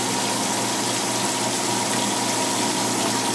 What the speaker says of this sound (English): And then we need to rinse our chicken anyway